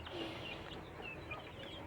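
Young free-range village chicks (ayam kampung DOC) kept in a cardboard box give a run of thin, high cheeping peeps, close and continuous, over a soft background rustle.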